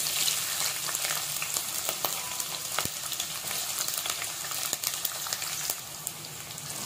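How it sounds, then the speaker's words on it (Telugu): Green chilies and three medium onions fry in oil with cloves, cardamom and shahi jeera for gongura chicken. A steady, close hiss of sizzling runs throughout, broken by small pops and crackles, with no talking. "ఇవి బాగా ఫ్రై చేసుకున్నాము ఆయిల్లో."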